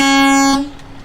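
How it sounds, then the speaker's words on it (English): A truck's horn blasts loud and steady for about half a second with a strong tonal drone, then cuts off, leaving a quieter engine rumble behind. "There's my horn."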